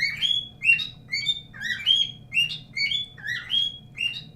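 A small bird chirps repeatedly and close, with quick bright tweets in a steady run of roughly eight bursts over a faint low hum. There is no talking.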